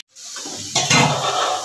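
Cut potatoes and carrots drop into a hot pan and burst into a loud, crackling sizzle that holds steady, with a faint clink of utensils.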